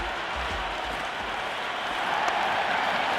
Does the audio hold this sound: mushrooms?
no